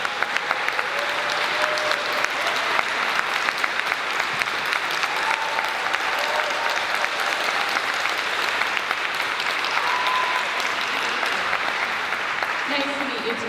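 An audience at a candidate forum applauds to welcome Cynthia Nixon. The clapping is loud, dense and sustained, with faint voices mixed in beneath it.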